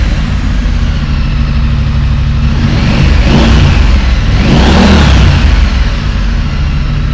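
Triumph 900cc twin-cylinder motorcycle engine, loud and close, revving steadily with two rising throttle blips in the middle before settling back to a rumbling idle.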